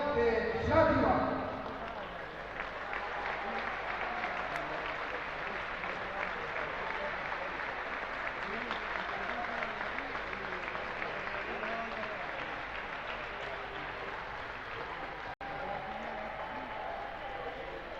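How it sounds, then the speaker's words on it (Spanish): Sustained applause from an indoor crowd at a sports club's 2019/2020 season presentation for a women's cadet team, a steady even wash of clapping after a brief louder start, with an announcer's voice over it. "un aplauso al equipo patrocinado por Restaurante Euforia de Sátiva."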